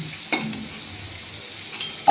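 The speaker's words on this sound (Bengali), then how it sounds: "সবজিটা আগে ভেজে নিই ভালো করে" Vegetables fry in a kadai before katla fish curry is cooked: a soft, low sizzle broken by a few sharp stirring scrapes and clinks nearby.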